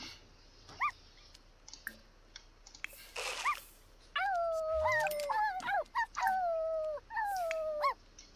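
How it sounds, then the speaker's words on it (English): Puppies in The Sims 4 giving short whimpers, then a run of drawn-out, wavering howls mixed with small yips, fairly quiet and close, with no talk over them. "Especially with your little howls and little barks and everything else."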